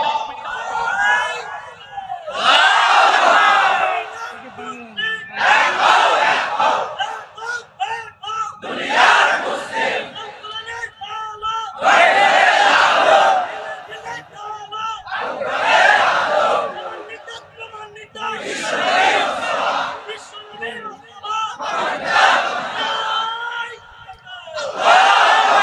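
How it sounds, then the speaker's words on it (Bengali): A large crowd at an Islamic sermon chants takbir (Allahu Akbar) loudly in repeated rhythmic bursts, roughly every three seconds, with each shouted call rising together and fading between calls. "জোরে তাকবীর দাও"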